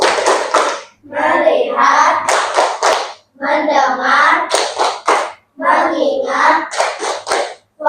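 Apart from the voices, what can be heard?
rhythmic focus clapping game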